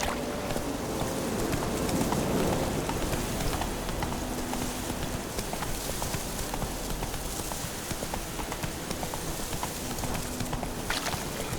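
Roach, a horse in the Witcher 3 video game, trots with a steady, rapid clip-clop of hooves that runs throughout over a dense background wash.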